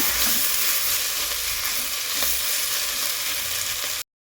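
Onion and fenugreek leaf curry frying in a pan, giving a loud, continuous hissing sizzle with a few faint stirring scrapes, then cutting off abruptly to silence near the end.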